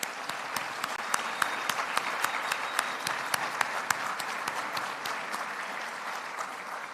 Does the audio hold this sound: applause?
yes